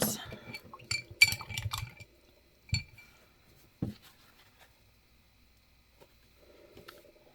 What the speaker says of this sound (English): I'm going to rinse my round brush back out.